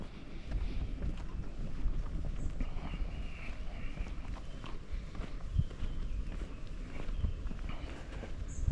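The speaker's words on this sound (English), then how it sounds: "Boy, that wind, that breeze is blowing." Wind gusts across an open river park by picnic tables and a boat ramp, a low, continuous rumble buffeting the microphone, with faint scuffs like footsteps underneath.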